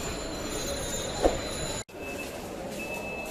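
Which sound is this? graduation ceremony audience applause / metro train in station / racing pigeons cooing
metro train in station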